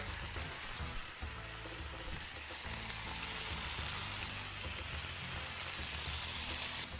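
Garlic mushrooms warm in a pan with a steady, dense sizzle and crackle close up, continuous and even for several seconds with no voices over it.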